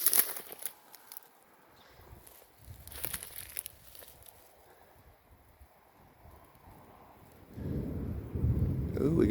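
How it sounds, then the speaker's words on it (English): Thunder rolls in during a hike through a burned forest, a deep low rumble that builds and swells loudly near the end, with wind and faint rustling earlier and no speech. "we got some thunder rolling in"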